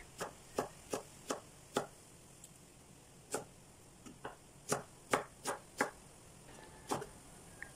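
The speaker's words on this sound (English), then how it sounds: "she then chops up her leek, take off the end, and cut it into smaller diagonal pieces" A knife cuts a leek into diagonal pieces on a cutting board, with about fifteen crisp, close taps in an uneven rhythm over quiet room tone, and no talking.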